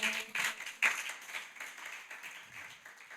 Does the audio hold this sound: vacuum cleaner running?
no